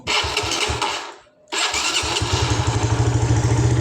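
An old Honda Sonic motorcycle, hand-started, its engine roaring loudly, cutting out briefly, then catching again and settling into a steady, close, rapid idle pulse.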